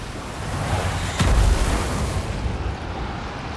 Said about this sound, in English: Not too concerned about the enemy artillery.